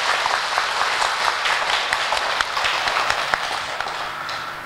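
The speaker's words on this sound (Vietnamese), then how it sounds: "cho Thầy mượn một tràng pháo tay" A Buddhist temple audience at a Dharma talk gives a continuous round of applause, dense and steady, with sharper individual claps standing out from the mass.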